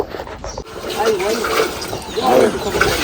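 Water pours steadily into a container as it is being filled, a continuous rushing flow heard close by, with people talking over it throughout.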